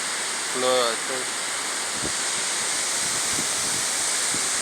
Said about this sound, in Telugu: కొండపై నుంచి కిందకి నీళ్లు పడుతున్నాయి.